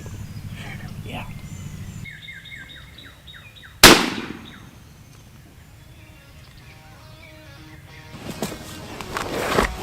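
A single loud, sharp gunshot cracks out during a turkey hunt, ringing briefly before fading, with birds calling and people speaking quietly before and after the blast.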